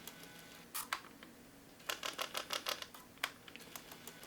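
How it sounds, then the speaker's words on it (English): Soft mechanical clicks and ratcheting come in short clusters, close and faint, like a camera lens clicking as it zooms. "Hear that? Not so much noise when you zoom out, but when you zoom in"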